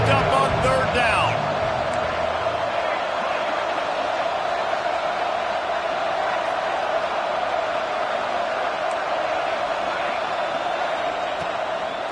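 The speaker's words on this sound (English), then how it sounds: "Crowd getting this defense whipped up on 3rd down." Stadium crowd in the College Football 26 video game roars steadily on 3rd down at an Ole Miss game, a dense, sustained wall of cheering that stays loud and even throughout.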